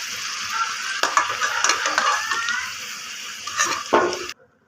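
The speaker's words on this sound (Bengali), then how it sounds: "আলুগুলো ভালো করে ভেজে নিই" Potato pieces fry in hot oil in a home kitchen, a continuous bright sizzle with occasional scraping stirs and bursts of spattering, close and fairly loud, then cutting off abruptly.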